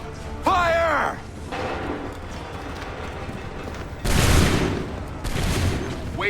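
Musket volley fire in Assassin's Creed 3 Remastered, two broad loud bursts of massed gunfire following shouted commands, with voices calling out orders between the shots.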